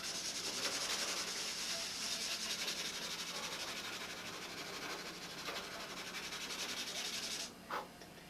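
Hand sanding with a piece of 180-grit sandpaper, a steady close scratchy rubbing that runs almost unbroken for several seconds before stopping, followed by a brief faint knock.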